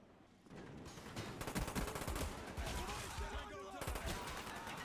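Rapid automatic gunfire from a weapon in Call of Duty, dense bursts of shots that keep going for several seconds at a fairly low level, with a voice speaking over it.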